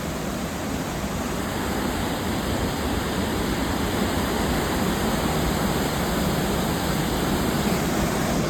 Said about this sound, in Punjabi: ਇਹ ਪਾਣੀ ਨਾ ਜਦੋਂ ਦਾ ਸਾਡਾ ਸਫ਼ਰ ਸ਼ੁਰੂ ਹੋਇਆ ਨਾ ਉਦੋਂ ਦਾ ਹੀ ਨਾਲ ਨਾਲ ਚੱਲਦਾ ਆ ਰਿਹਾ